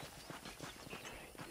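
Horse hooves clip-clop faintly at a steady walking pace in the Red Dead Redemption video game, quiet and distant with no speech.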